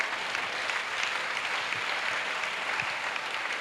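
A church congregation at a salvation and healing gathering in Port-Bouët claps together, a dense, steady roll of many hands that continues unbroken at close range.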